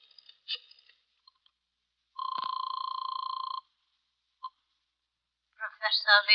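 Telephone effect from an old-time detective radio drama: a few scattered clicks and beeps, then a steady two-tone ring or dial tone lasting about a second and a half, another short beep, and a voice that begins at the end.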